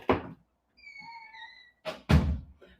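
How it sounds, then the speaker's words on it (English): An indoor door being closed: a dull thunk, a thin creaking squeal, then a heavier thud as it shuts, all close by with no talking. "let me close the door."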